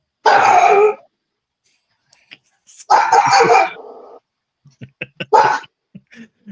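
Several short, harsh barks or yips in separate bursts with pauses between, close and loud, followed by scattered small snorts and clicks.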